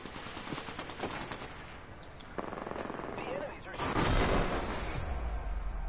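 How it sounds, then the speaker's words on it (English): Enemy gunfire in a PS4 shooter crackles in rapid bursts and scattered shots, with a louder burst near the end and voices talking over the action. "The enemies are shooting."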